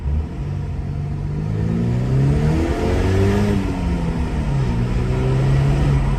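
A 2.0 TFSI turbocharged Audi A5 accelerating hard, its engine note climbing through the revs with a steady rumble and whir from inside the car, no talking.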